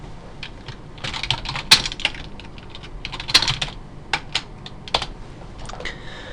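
Typing a virtual machine name on a computer keyboard, a close run of uneven key clicks and taps with short pauses between bursts and no talking.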